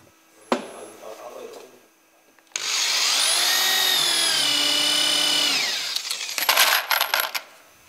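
A power screwdriver drives soap-dipped screws into the wooden frame of a bentwood chair, joining backrest and seat frame. A sharp tap and soft handling come first, then a loud, steady whirring of several seconds, followed by clattering as the tool stops.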